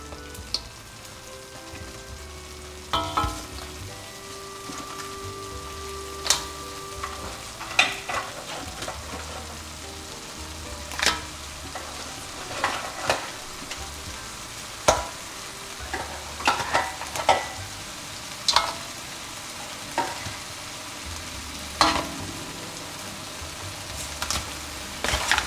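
Mud crab stirred and sautéed in chilli sauce on a hot plate over very low heat, with a steady soft sizzle under repeated sharp scrapes and clacks of the utensil against the crab shells and pan.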